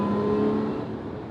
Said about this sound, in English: when you floor, you can really get that supercharger whine going in